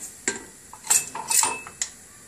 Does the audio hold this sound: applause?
no